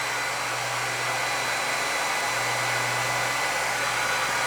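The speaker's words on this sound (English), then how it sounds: "Hairdryer on high." A hair dryer runs on its high setting from a Bluetti AC180P power station, giving a loud, steady, unbroken blowing roar close by with a constant low motor hum underneath and no talk.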